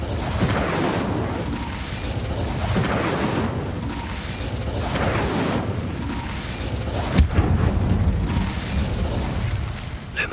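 Fire spell Incendio cast in Hogwarts Legacy on PS5, a repeated whooshing, rumbling burst of flame with crackling pops, fairly loud and dense, ending in a sharp crack near the end.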